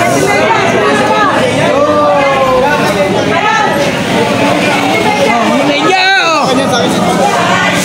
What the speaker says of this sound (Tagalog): Iyawan at sigawan lang maririnig mo.